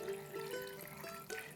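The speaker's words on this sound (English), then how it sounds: "Let's go ahead and pour over the salty solutions." Salty brine poured from a container into a jar of vegetables for homemade pickles, a soft continuous trickle and gurgle of liquid running steadily at close range.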